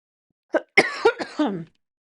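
A few harsh, raspy coughs in a quick cluster, loud and close, followed by a throaty clearing sound.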